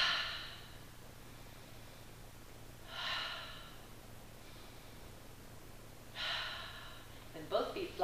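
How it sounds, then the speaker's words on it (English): Three slow, deep breaths are taken during a yoga routine, each a soft airy rush spaced a few seconds apart. They are close and gentle over a quiet room hum. "Take three deep breaths again."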